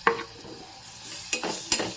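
Tomato pieces tipped into a pan of chili-coated pieces and mixed, a soft hiss punctuated by three sharp scraping knocks of the spoon against the pan, close and wordless.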